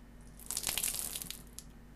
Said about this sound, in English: When I open the valve, I will drain the water until all of the water has been removed.